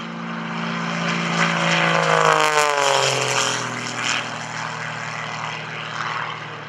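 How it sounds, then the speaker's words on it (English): A loud Zivco Edge 540 aerobatic propeller plane engine roars nearby at an airshow and rises in pitch as it accelerates, then drones on steadily as the aircraft pulls away. "The airplane is a Zivco Edge 540"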